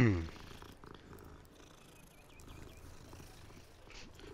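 Cat purring in the video game Hogwarts Legacy, a soft, steady, low rhythmic purr that stays fairly quiet and continuous throughout, with a brief louder sound at the very start.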